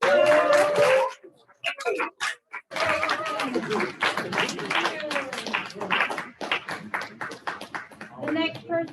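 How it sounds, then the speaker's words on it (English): Applause for a graduate at a graduation ceremony comes in uneven bursts of hand clapping from a crowd, with pauses between them and voices talking over and between the claps. "Everybody give her a round of applause."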